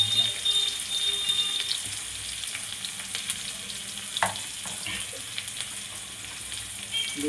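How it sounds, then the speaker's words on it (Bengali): Onion and garlic frying in hot oil in a pan for a tengra fish chorchori, a steady close crackling sizzle with small sputters throughout and no talking. "একটু পেঁয়াজ ফোড়নে দিয়ে দিলাম এটা চচ্চড়ি করবো ট্যাংরা মাছে আর সামান্য একটু রসুন দিয়ে"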